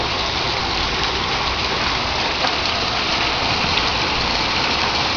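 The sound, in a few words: rain and hail storm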